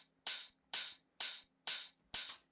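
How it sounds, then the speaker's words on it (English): An open hi-hat from an electronic dance music drop hits five times in an even, spaced rhythm. Each hit is a bright, airy hiss that decays quickly. The hits are soft and isolated, with no other sound. "As the drop progresses, I added this open hat,"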